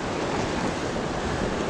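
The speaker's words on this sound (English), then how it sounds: "The swell breaks against the rocks, sorry." Sea swell at a spring tide near high water breaks steadily against rocky shore, a dense, continuous roar of surf with wind buffeting close by and no talking.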